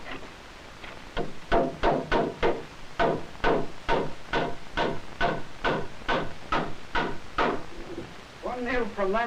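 Nails are driven into a wooden beam for a joist on top of posts inside a 1960 family fallout shelter, with a quick, steady run of about twenty close, sharp hammer blows.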